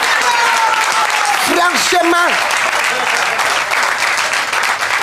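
Audience applause at a French-language comedy show, a dense steady clapping wash filling the whole stretch with a voice speaking over it briefly near the start.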